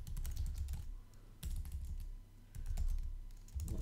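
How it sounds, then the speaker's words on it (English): Close, quiet typing on a computer keyboard while writing PHP code, with rapid bursts of key clicks separated by brief pauses and no talking. "Sorry, you have to watch my typing"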